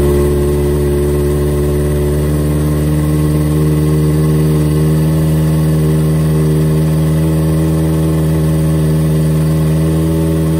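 A Kawasaki Ninja ZX-25R SE with its catalytic converter removed idles close by, a loud, steady, buzzing engine note holding even without revs or pauses.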